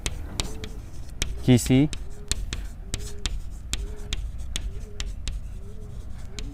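Chalk or marker strokes writing on a board in a quantum mechanics lecture, a series of short scratchy taps in an uneven rhythm, with a brief spoken word in the middle.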